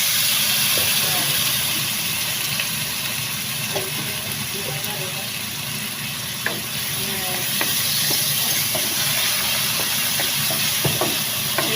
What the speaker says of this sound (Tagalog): Gisa-gisahin lang natin siya guys.